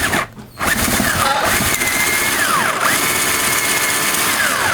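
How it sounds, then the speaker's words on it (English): A power drill bores a cam lock hole into the wood of a MAME arcade cabinet, a steady loud whirring grind running almost the whole time after a brief dip near the start, with rising and falling squeals as the bit bites. "I gotta put it on drill setting. I had it on a screwdriver setting."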